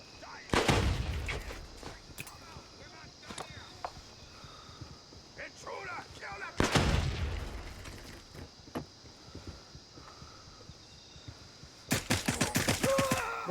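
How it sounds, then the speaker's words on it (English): A grenade blast in the Gray Zone Warfare shooter game: a deep, booming burst near the start and another midway, with gunfire-like cracks and crackling between, and voices talking over the action. "I messed that grenade up"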